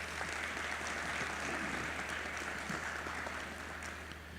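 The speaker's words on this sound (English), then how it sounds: "So let's give them a round of applause." Applause from an audience at a public safety awards ceremony, a steady broad wash of clapping that holds through and tapers slightly at the end, fairly faint and distant with a low hum underneath.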